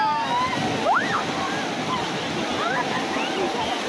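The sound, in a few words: sea waves breaking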